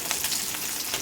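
Stinging catfish (shing fish) frying lightly in oil in a pan, a soft, steady sizzle heard briefly and alone.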